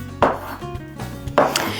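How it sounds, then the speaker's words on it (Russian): A knife strikes a cutting board twice in sharp, close chops through large button mushrooms, cutting them into quarters, with a quiet gap between them. "поэтому нарезаю их на 4 части"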